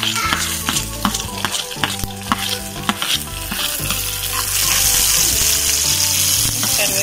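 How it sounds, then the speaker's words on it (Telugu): Cumin and mustard seeds sizzle and pop in hot oil, with scattered crackling bursts and occasional spoon scrapes against the pan, growing into a louder, denser fry toward the end. "దీంట్లోనే జీలకర్ర వేసేసుకుంటున్నాను అలాగే ఆవాలు కూడా"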